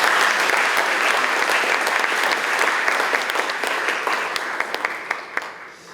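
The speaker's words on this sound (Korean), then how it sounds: "박수 한번 더 부탁드리겠습니다" An audience at a Gyeongbuk education office launch ceremony breaks into sustained applause after a musical performance, a full, even roar of clapping with sharp individual claps standing out as it slowly tapers toward the end.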